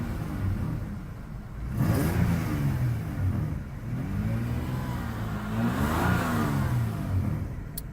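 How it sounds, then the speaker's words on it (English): A 1995 Toyota Camry with a slight exhaust leak revs up twice from idle, each rise swelling and falling back, a close mid-pitched engine rumble heard on its own. "I'll go ahead and kind of rev it up for you."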